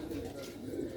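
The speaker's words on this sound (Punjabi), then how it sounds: "ਕਬੂਤਰ" Sialkoti breeder pigeons cooing, a brief close, low throaty coo from the birds with steady background murmur.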